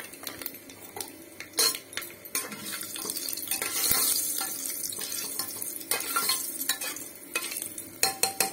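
Whole spices, cinnamon and black pepper, fry in hot oil in a pan for an Odia-style mutton curry, a soft sizzle beneath repeated scraping and clinking of a metal spoon stirring, close and fairly loud.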